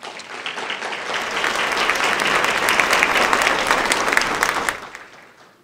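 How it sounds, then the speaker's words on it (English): An audience claps for school principals and administrators at a support staff awards ceremony, dense applause swelling over the first seconds, holding strong and full, then fading out near the end. "let's give our principals and our school administrators a round of applause as well"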